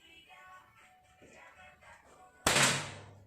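One sharp, close air rifle shot from a gas-powered PCP rifle fired at a paper target. It bursts out abruptly after quiet background murmur, with a brief decaying tail.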